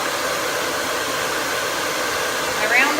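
A handheld blow dryer runs during an at-home salon blowout, a loud, steady rushing whoosh that holds throughout, with a brief rising whine near the end.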